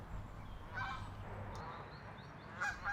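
Geese on a pond honk a few times at moderate distance, short nasal calls spaced apart over a quiet outdoor background.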